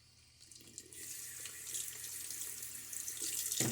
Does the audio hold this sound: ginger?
no